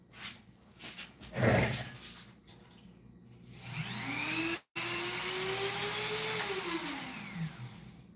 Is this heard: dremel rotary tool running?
yes